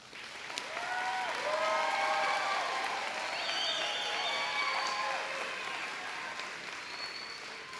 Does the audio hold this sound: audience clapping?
yes